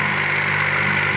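A Swaraj Target 630 narrow three-foot tractor running in a farm field, its engine giving a steady, loud, close idling drone with no change in pitch and no speech over it.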